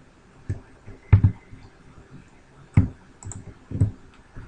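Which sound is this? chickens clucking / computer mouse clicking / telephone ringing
computer mouse clicking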